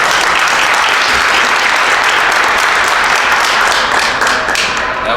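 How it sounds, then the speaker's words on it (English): Loud, steady applause fills a wrestling press conference room from start to finish, dense overlapping clapping from a crowd close by with no pause and no voices. "That was pretty natural, pretty natural applause break."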